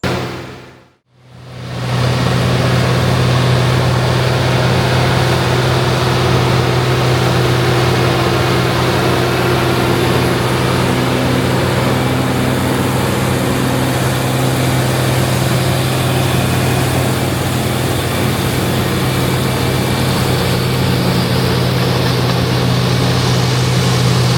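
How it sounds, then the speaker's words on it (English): A loud, steady mechanical drone of an International Harvester 5088 tractor engine runs continuously, with a broad roar of machinery chopping corn silage close by and no talking. "This farm is using this beautiful International 5088 to chop the corn."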